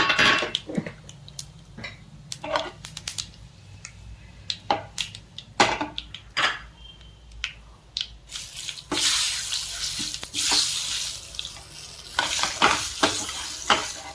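Mustard seeds and spices tempering in hot oil in a pan for a karonda chutney give a bright, crackling sizzle. Sharp spoon-stirring clicks come first, then a loud, sustained hiss of frying that swells and fades.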